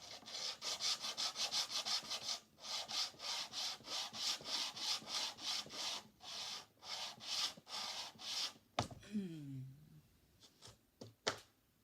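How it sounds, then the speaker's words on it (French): Sandpaper rubbed by hand over a wooden module in a steady rhythm of quick strokes, close and fairly loud, with a short pause partway through, ending in a few scrapes and brief knocks. "Je pense qu'il n'y a plus qu'à passer un coup de papier de verre dessus."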